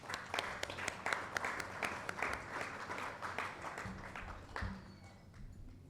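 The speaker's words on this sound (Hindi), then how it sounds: "so please give a round of applause for her." Audience applause for a guest at an awards ceremony with poetry and open mic, a crowd clapping steadily and fairly loudly before tapering off into scattered claps, with faint voices underneath.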